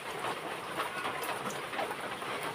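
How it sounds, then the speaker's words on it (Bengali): Semolina snacks deep-frying in hot oil in a kadai over a high flame, giving a faint, continuous hissing crackle with no pauses. "আমি এখানে নাস্তাগুলো ভেজে নেব"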